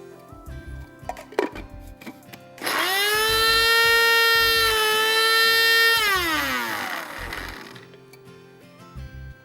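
A loud electric grinder grinding spice paste with a little water whirs up to a steady high-pitched whine for a few seconds, then winds down, with clattering kitchen sounds before and after.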